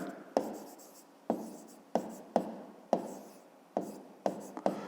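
A math answer for a fifth-grade division exercise is written out by hand in quick scratchy strokes, several separate bursts each starting with a tap and fading, close and alone.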